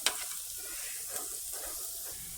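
Chili garlic chicken with chopped garlic sizzles steadily in a pan while being stirred, a continuous close hiss with a few soft scraping accents and no voices.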